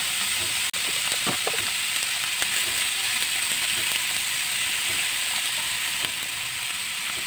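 Chicken pieces, cut small, sizzle and crackle steadily in a hot pan while cooking for adobong sitaw, a continuous close frying hiss with scattered pops and no talking.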